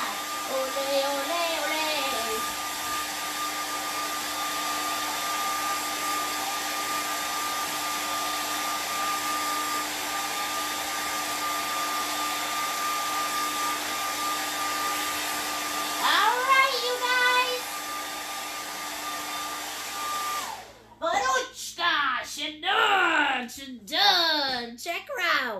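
A hair dryer dries paint on a painting of an Easter cat, blowing with a loud, steady whir for about twenty seconds before cutting off abruptly. A voice then speaks.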